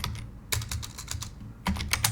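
Quiet, quick computer-keyboard typing in short irregular bursts with brief pauses, close and clear, no talking.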